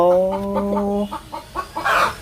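A chicken makes a drawn-out call, then a series of short, rhythmic clucks, fairly close with no talking.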